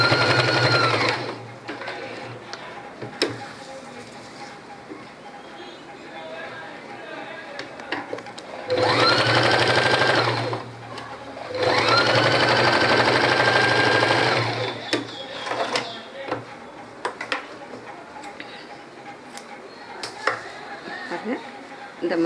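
Sewing machine stitching the side seams of a pattu pavadai top, running in two steady whirring bursts with quieter pauses and handling noise in between.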